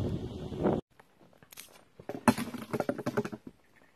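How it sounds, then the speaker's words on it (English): On a hiking trail, after a short burst of rustling, dropped hiking poles clatter on the ground in a cluster of light rattling, close and irregular, fading out at the end. "That noise you can hear is Alison dropping her poles."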